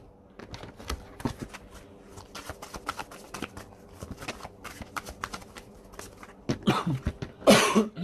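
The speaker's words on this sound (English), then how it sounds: "I'm sorry for the coughing." A person with bronchitis has repeated coughing fits, close and fairly loud, with a burst of harsher coughs toward the end; no talking.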